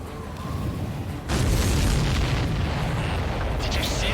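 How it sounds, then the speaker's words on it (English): A loud, sudden boom from a missile hitting a supply ship in Ace Combat 7, followed by a sustained roaring rumble that lingers for several seconds. "Did you see that explosion?"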